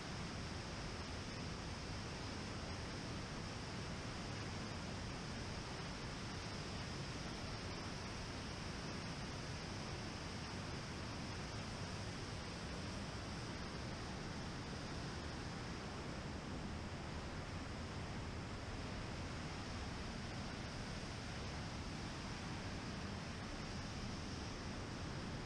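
A steady, unbroken roar of rushing water from a waterfall in Patagonia, constant and full without pauses or voices.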